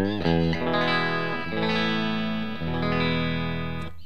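Bridge pickup of a Fernandez 70s Strat copy through a Ceriatone JTM 45, three strummed chords ringing out in turn with a bright, slightly driven, chorused tone, loud and close, no voices.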